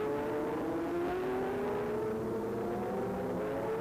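A Kawasaki race motorcycle, number 76, passes at the WERA 6-Hour National Endurance race in Las Vegas in 2008. Its engine holds a steady, rising whine that carries without a break across the clip.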